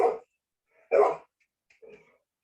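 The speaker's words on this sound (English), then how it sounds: "I'm going to mute myself while the dog barks" A dog barks nearby in a home setting, two sharp close barks about a second apart followed by a softer, shorter woof, with silence between them.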